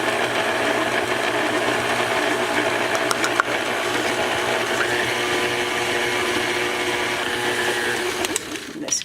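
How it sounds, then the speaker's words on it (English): An electric hand mixer creams sugar into butter for chocolate chip cookie dough, giving a steady, loud, continuous whir with faint knocks as the beaters hit the bowl, close by and running alone. "I'm going to beat it right into the butter."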